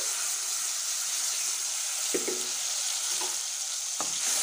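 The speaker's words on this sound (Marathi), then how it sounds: "तेल सुटेपर्यंत छान असं परतून घ्यायचं आहे" Spice masala sautés in hot oil in a kadai for methi kofta gravy: a steady, close sizzle with a few soft stirring scrapes and clicks. No one speaks.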